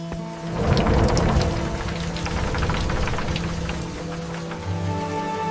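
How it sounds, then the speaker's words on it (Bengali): Rain with thunder during a darkening storm, a steady patter of falling rain with a low rumbling swell of thunder, fairly close and continuous, no talk. "মনে হচ্ছে বৃষ্টি আসবে।"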